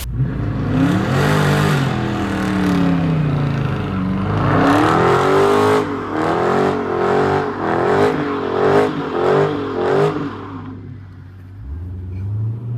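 A supercar on a rally drive back to the hotel, engine revving and pulling hard through gear changes with a strong rising whine, loud and close, then dropping off sharply near the end.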